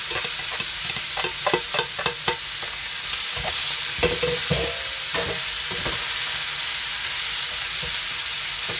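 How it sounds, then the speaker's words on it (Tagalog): Pork belly and preserved mustard greens stir-fry in a pan, with a steady sizzle broken by quick scraping knocks of a spatula, busy at first and then settling into an even fry, close and with no voices. "So guys, ibalik na natin yung mok choy natin. Yan, ihalo na natin siya dito."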